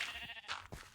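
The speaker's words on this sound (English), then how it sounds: "Now I know this sheep here is already a black sheep" Several short bleats from a black sheep in the Minecraft video game, close and clear, coming in quick bursts about a beat apart with quiet gaps between.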